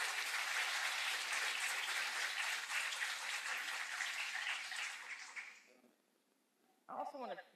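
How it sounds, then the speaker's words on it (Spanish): Audience at a panel conversation applauding, dense clapping that holds steady for about five seconds and then fades out, followed by a brief voice speaking. "Un aplauso, por favor."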